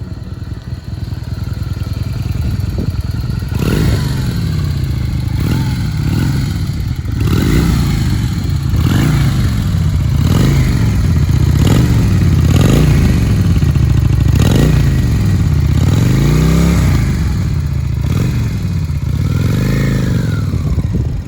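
A Honda VLX 400 Steed motorcycle engine runs loudly and steadily throughout, with repeated revving swells and a mechanical clatter underneath.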